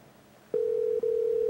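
A steady electronic telephone tone starts abruptly and holds, with a brief break partway, over faint background hiss.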